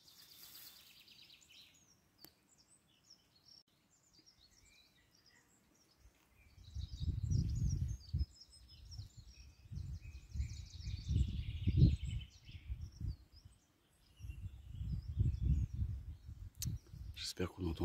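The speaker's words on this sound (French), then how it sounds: "Vous allez écouter le silence et les petits oiseaux." Small birds chirping beside the Lot river along the GR70 Stevenson trail, faint scattered calls over a quiet outdoor background, partly covered later by low rumbling noise.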